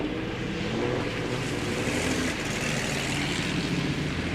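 Race cars slide sideways on a gravel track at Victory Raceway, a continuous dense rumble of engines and scattering gravel, fairly distant and steady.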